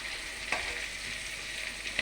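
Food frying in a pan gives a steady, close, even sizzle, with a couple of sharper crackles and faint stirring sounds.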